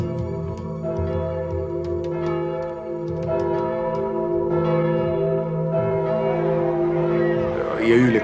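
Church bells peal continuously, several tones overlapping in a rich, resonant ringing that carries throughout without pause.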